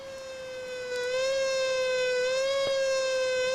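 Fire engine siren from the Emergency 4 video game, a steady wailing tone that holds loud and rises slightly as the truck approaches, heard alone.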